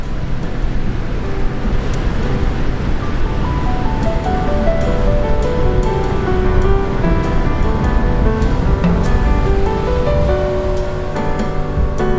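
Steady, loud roar of ocean surf washing continuously, heard from among trees on the Argentine coast, with wind rushing over the microphone and no voices.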